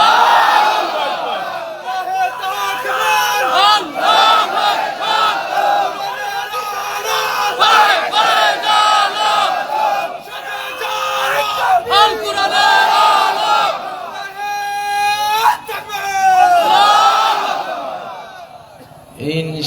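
A large crowd at an Islamic sermon chants takbir in loud, sustained, overlapping shouts that rise and fall in repeated waves, with a few individual voices standing out.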